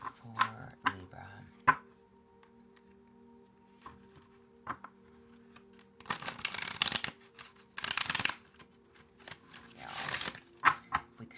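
A deck of tarot cards is shuffled in a quiet room, giving bursts of riffling and sliding card noise in several separate rounds, with small taps and handling sounds between them.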